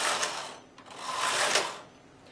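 A knitting machine knits rows, its carriage making a loud, harsh swish that rises and falls in sweeps across the bed. No voices can be heard.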